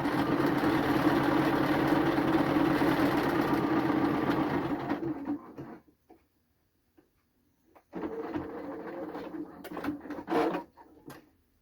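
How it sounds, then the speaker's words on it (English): A sewing machine zigzag-stitches the edge of a swimsuit fabric, a steady close whir for about five seconds, then a pause and a second shorter burst of stitching with small handling clicks. "I'm going to switch it to a zigzag stitch. And I'm going to get it to a fairly good size stitch. And I'm just going to zigzag this edge down."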